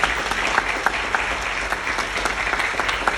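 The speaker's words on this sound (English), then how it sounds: "please give my incredible staff a round of applause" Town hall audience in Columbia Heights, Minnesota applauds staff, steady dense clapping from a sizable crowd lasting the whole stretch, fairly close and even in level with no talking over it.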